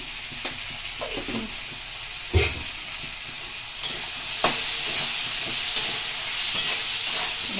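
Paneer frying in a pan with salt for butter paneer, a steady close sizzle with occasional stirring scrapes and clinks, no voices.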